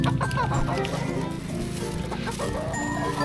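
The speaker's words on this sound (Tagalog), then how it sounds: "oh, manok ni Kenzo, malaki na." Chickens cluck in short, overlapping bursts close by, a busy farmyard chatter with no talking.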